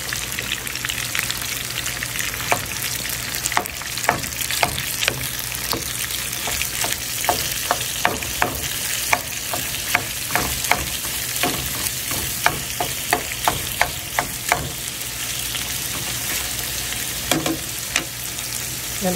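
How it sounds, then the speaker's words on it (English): A chunk of ground beef frying in a pan, a steady crackling sizzle with scattered sharp pops and spits throughout, close and fairly loud. "here's my chunk of ground beef going in"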